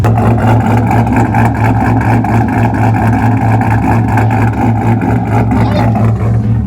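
A cammed car engine idles with a steady, loud low rumble and a lopey, uneven chop, running continuously up close with no one talking over it.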